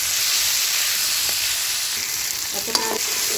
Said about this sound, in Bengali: পেঁয়াজ আর রসুনটা ভাজা ভাজা হয়ে এসছে